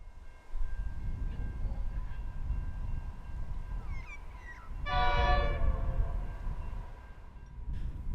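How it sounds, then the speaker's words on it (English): An eastbound Indian Pacific passenger train rumbles past on a windy morning at Peterborough, South Australia, with steady wheel and engine noise throughout and a single loud, chord-like horn blast sounding midway. "It's a windy morning as an eastbound Indian Pacific makes its way towards Sydney."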